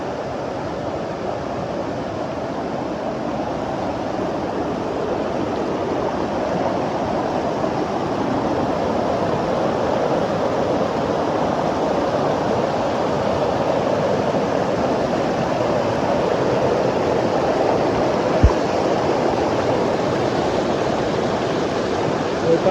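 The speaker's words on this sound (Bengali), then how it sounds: "পুরোই ঝর্ণার মতো এখানে পানির শব্দ।" Water pours down like a small waterfall and splits into two channels, giving a steady, loud, unbroken rush that stays close and constant throughout.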